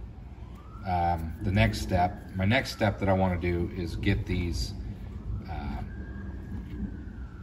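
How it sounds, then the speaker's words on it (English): A distant siren wails during a bad storm, rising and falling softly in the background while someone talks close up over it. "sorry about the sirens."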